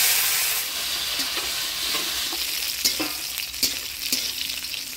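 Cashews and raisins frying in ghee with whole garam masala, cinnamon, cardamom, cloves and bay leaves, a loud steady sizzle with scattered scraping stirs of a spoon in the pan.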